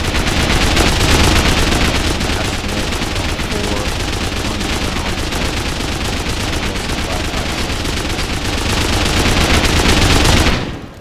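Loud, sustained automatic gunfire in Rust, explosive 5.56 rounds hammering an armored wall in a continuous rapid stream that runs for about ten seconds before cutting off.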